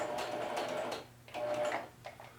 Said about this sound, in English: when I get up to the top, I'm going to do another bar tack